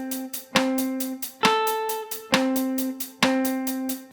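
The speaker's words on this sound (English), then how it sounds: "The final polyrhythm we're going to do is 4 against 3." Two layered pitched percussive parts play a 4 against 3 polyrhythm: strong accented hits land at an even slower pulse while lighter, quicker strokes fill the gaps between them, clean and close.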